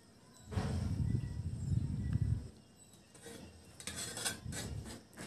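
A utensil scrapes around the edges of a steamed palm cake inside a pot, first with a soft, low rubbing and scraping, then with faint metallic clinks and taps, close and quiet with no talking.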